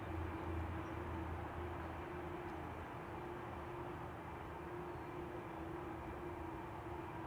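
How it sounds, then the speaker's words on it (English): Turkish Airlines Airbus A350 jet departing Amsterdam Schiphol Airport, a steady broadband roar with a low tonal hum, constant and loud throughout without talk. "Turkish Airlines A350 to Istanbul."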